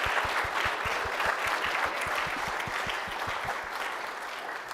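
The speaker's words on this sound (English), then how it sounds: "Everyone give him a round of applause." Audience applause after an evening business lecture by an alumnus: steady, dense clapping from a mid-sized crowd, sustained evenly throughout and tapering slightly at the end, with a faint voice underneath.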